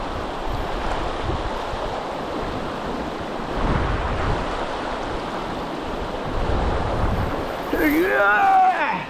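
A strong river current rushes at a fishing spot where mandarin fish are sought, a steady broadband roar of flowing water that swells slightly in places, with a brief high whistling tone near the end.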